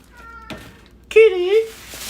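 A cat gives a short meow and then a longer, louder drawn-out meow nearby, with a person calling softly around it.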